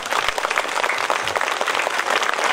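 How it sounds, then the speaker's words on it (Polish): Loud, dense applause from a crowd at a Polish Armed Forces Day event, steady clapping filling the whole moment with no voices. "Jeszcze duże brawa"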